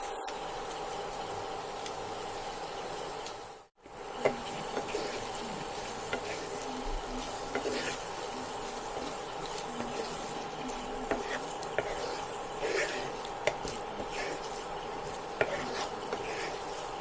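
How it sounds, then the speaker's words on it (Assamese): Paneer with potatoes and meat masala stir-fries on low heat for lemon paneer, a soft steady sizzle with faint occasional scrapes of a spoon in the pan, briefly cutting out near the start. "এইখিনি মই প্ৰায় 2 মিনিটমান কম ষ্টিমত ভাজি লওঁ।"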